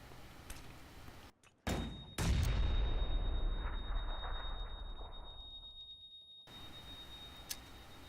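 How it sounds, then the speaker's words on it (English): Full-auto AK assault rifle fire and frag grenade blasts in PUBG: a sudden loud explosive burst near two seconds, then a long booming, decaying roar that fades out after about six seconds, with quieter background noise around it. "Throwing a couple frag grenades out. Here he comes. With the AK on full auto."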